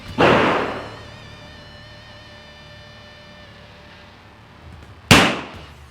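Two loud, close shots from a Marlin 917V rifle at target practice, about five seconds apart, each a sharp crack that rings out and fades into a quiet range with no talking between them.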